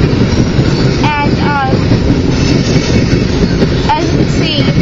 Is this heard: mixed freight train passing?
yes